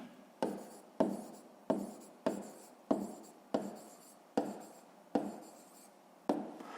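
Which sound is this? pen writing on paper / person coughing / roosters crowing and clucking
pen writing on paper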